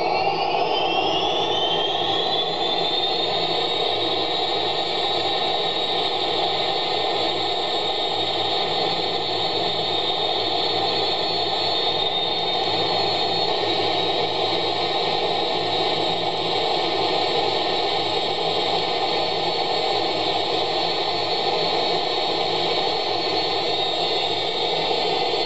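Boeing 777-200 jet engines spooling up to full takeoff thrust in the FlightGear flight simulator, a loud, steady roar with a rising whine early on, then holding constant throughout.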